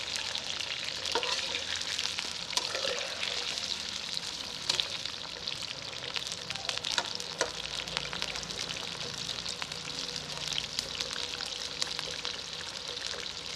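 Potatoes fry in hot oil in a karahi for an Afghani aloo dish, giving a dense, even crackling sizzle with scattered sharp pops, close-up and steady throughout, with no voices.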